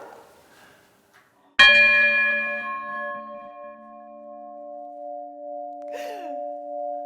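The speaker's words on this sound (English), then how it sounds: "since this is the oldest working bell in London, let's give it a go!" A single strike of London's oldest working bell, a medieval guild bell, rings out loud and close, its bright harmonic tone decaying slowly over several seconds, with faint background sounds and a brief rustle near the end.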